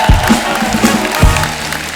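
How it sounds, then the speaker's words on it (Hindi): A studio audience at a comedy talk show applauds its guests, a dense wash of clapping with some crowd noise, loud and close throughout the short stretch. "एक बार हमारे मेहमानों के लिए जोरदार ताली हो जाए"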